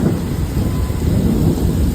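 Heavy rain pours down steadily in a thunderstorm at 3 a.m., a dense, loud, continuous roar with low rumbling weight underneath and no pauses.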